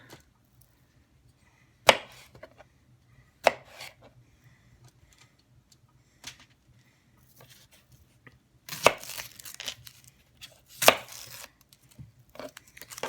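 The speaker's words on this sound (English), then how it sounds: "So for the onion, we're kind of giving it a rough chop too." A knife roughly chopping an onion on a cutting board in irregular, sharp strikes, with a few quick bursts of rapid chops among pauses.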